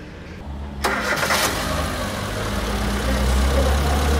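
A Fiat Albea 1.2 16V petrol engine running on LPG, noted for a ticking noise, cranks and catches, then settles into a close, steady idle with slight rises in revs.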